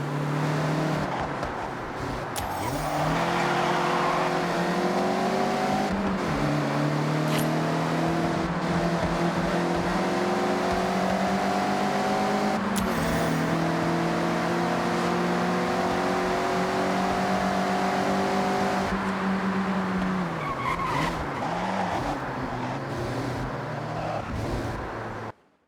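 A Mazda MX-5 in the Forza Horizon 6 racing game, driven hard and sliding sideways through corners: a steady, loud engine drone that climbs and drops in pitch as it revs and shifts, with brief tire noise, no talk.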